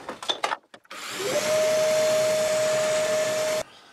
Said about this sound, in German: So, in dieses Loch bohre ich jetzt hinein.